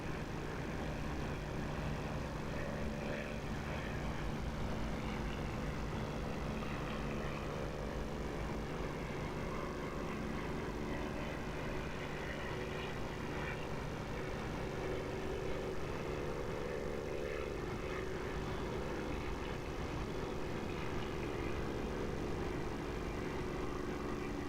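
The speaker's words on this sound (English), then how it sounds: "the engine is by Echo 19, not DCS engine sound for the Spitfire" A Spitfire's piston engine in the DCS flight simulator, using the Echo 19 engine sound mod, drones in a steady, loud, continuous roar with a low throbbing hum throughout, no talking.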